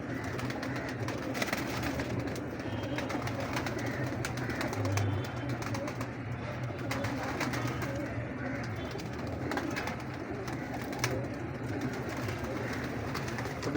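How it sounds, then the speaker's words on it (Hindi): Captan breed pigeons in a Lahore breeder's loft cooing repeatedly in soft low rounds, with bird chatter and background bustle filling the space, no speech. "ये भी पीली पलकों वाला कबूतर"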